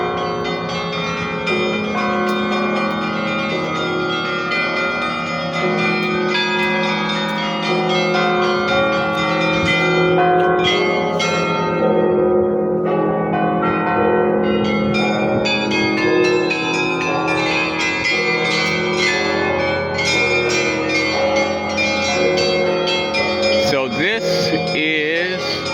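Church bells ringing inside the Kremlin, a dense, sustained peal of many overlapping bell tones that rings loudly and continuously for nearly half a minute.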